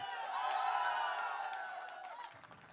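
Crowd at a Bollywood music launch event cheering and clapping, a broad wash of voices and claps that swells early and gradually fades.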